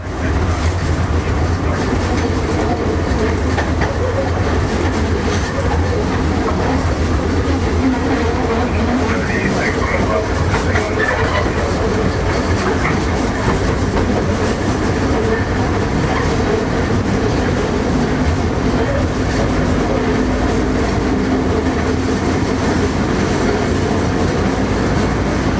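A subway train runs on rails with a loud, continuous rumble and rattling clatter of wheels over track, sustained throughout and nearby, while voices talk faintly underneath.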